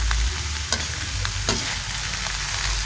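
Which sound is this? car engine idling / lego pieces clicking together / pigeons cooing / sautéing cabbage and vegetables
sautéing cabbage and vegetables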